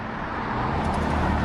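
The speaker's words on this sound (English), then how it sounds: "looking at the cars pass by," Cars passing on a road, heard as a steady, fairly loud rumble of traffic that swells slightly toward the end, with no speech.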